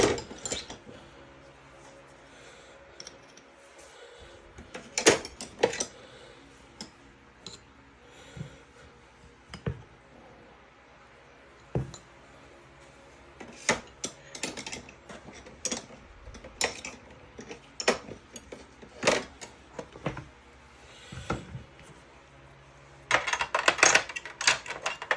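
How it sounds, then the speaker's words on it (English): A driver works on the yoke screw retainer of a revolver, with sparse small metallic clicks, taps and scrapes of tool on gun parts at close range in a quiet room. "we are going to go ahead and remove the yoke screw retainer. So find the appropriate size driver."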